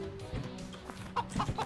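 Several short chicken clucks from a hen in a video game, sounding close and moderately loud over steady game background noise, with the clucks bunching up toward the end.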